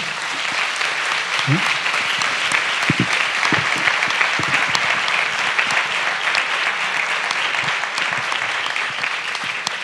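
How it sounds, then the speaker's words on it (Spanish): A crowd applauds steadily after a film screening, a dense wash of clapping that holds for about ten seconds with brief low murmurs and a few louder claps mixed in. "yo le voy a pedir ahora, con un previo aplauso para Alex"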